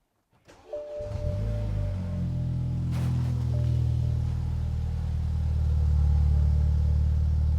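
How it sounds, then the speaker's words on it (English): A car engine being cranked and started during a cranking test, then settling into a steady idle rumble. The start is sharp, the running sound is loud, close and continuous, and no voices are heard. "So we're going to go ahead and start the engine."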